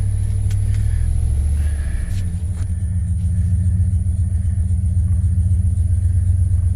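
A Jeep Grand Cherokee ZJ engine idles with a low, steady rumble close by, running continuously with faint clicks and no talking.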